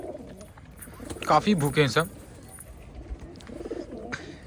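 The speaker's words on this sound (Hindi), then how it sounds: "तो काफ़ी तादाद में हमारे कबूतर भी हैं, एकदम एक्टिव लग रहे हैं।" Hungry pigeons at a loft cooing at feeding time, soft throaty calls near and mid-distance with someone speaking over them.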